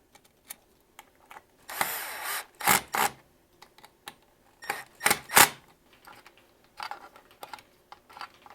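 A power driver runs in short bursts, screwing an electrical box to a floor joist while installing LED lights, with several separate whirring pulls separated by quiet pauses and small clicks.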